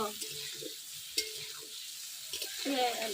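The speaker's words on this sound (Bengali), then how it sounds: "দেখেন পনিরটা হালকা ভেজে নিচ্ছি, বেশি ভাজবো না" Paneer is lightly fried in oil in a pan, giving a soft, steady sizzle with a few stirring scrapes and clinks, up close, with brief bits of background voice.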